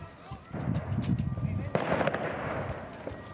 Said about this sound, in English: Gunshots and tear gas were fired near the airport